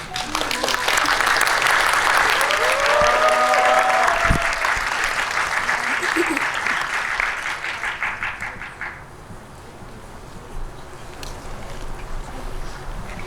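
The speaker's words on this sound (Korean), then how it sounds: "입장하시면 뜨거운 박수 부탁드리겠습니다." Loud, sustained applause from a large cinema audience at a film talk event, with scattered cheers, gradually fading to lighter clapping and then a quiet room.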